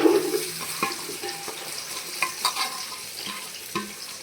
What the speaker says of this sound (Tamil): அது கூட வெங்காயத்தையும் பச்சை மிளகாயும் சேர்த்துக்கலாம். இது நல்லா பொன்னிறமாக வர வரையும் வதக்கி விட்டுக்கலாம்